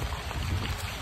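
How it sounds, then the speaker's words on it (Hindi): Heavy rain pours down in a village at night, a loud, steady, dense hiss and roar with no pauses. "अरे बारिश हो रहा है यार, बहुत बारिश हो रहा है"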